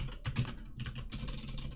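Keystrokes on a computer keyboard come in quick, uneven bursts with a brief pause in the middle, soft and slightly distant, with no speech.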